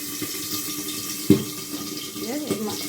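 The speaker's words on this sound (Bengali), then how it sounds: "মাছগুলো ভাজবো।" Small Bangladeshi catfish (tengra) sizzle and hiss in hot oil in a home kitchen, a steady frying wash with a couple of brief pops or clatters from the pan.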